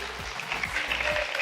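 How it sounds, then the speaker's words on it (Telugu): Light clapping from a couple of contestants on a Telugu TV game show, a brief, thin patter of applause at modest volume with no voices over it. "వాళ్ళిద్దరు చప్పట్లు కొట్టండి ఒకసారి."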